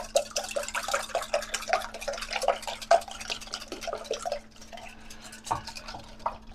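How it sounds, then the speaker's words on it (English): Twelve eggs being whisked in a bowl for a holiday breakfast dish, a quick run of light rhythmic clicks and taps for about five seconds, close and moderately loud, then fewer, softer strokes. "Whisk your 12 eggs."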